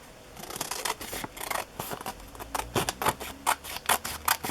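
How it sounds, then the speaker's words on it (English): Scissors snipping off a torn paper flap while prepping signatures for a glue book: close, rhythmic crisp cuts that grow more regular and evenly spaced toward the end, with no talk. "So I'm going to cut this flap off because the flap got torn."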